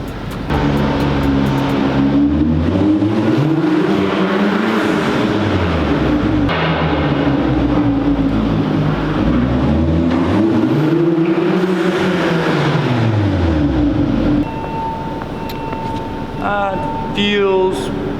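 A car on a skid test, its engine droning and rising and falling in pitch through sweeping turns with tire noise, loud and close, then dropping off near the end to a softer idle with brief squeaks.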